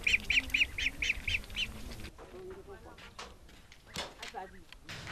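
Ducks quack in a quick run of several calls at the start, then the calls fade into a busy outdoor background with scattered noises.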